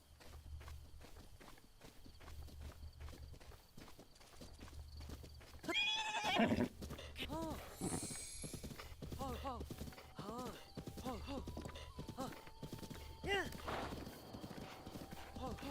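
Horses in The Legend of Zelda: Breath of the Wild, played in the Switch 2 Edition, clop steadily along with repeated hoofbeats, and a few whinnies ring out in the middle over a background of game ambience.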